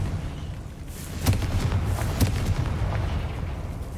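A Confringo fire spell bursting in Hogwarts Legacy, heard as a low rumbling blast with a couple of heavier booming hits over a steady dull roar.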